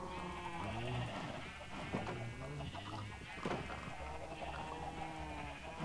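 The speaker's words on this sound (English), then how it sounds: "There's a gray sheep." Sheep in the Minecraft video game bleating several times in a quick irregular sequence, clear and fairly close, with a faint voice briefly underneath.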